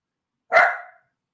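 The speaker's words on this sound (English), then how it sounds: "That's my dog letting other passing by dogs know not to mess with this stuff." A dog gives a single sharp bark at passing dogs, loud and close, with silence before and after.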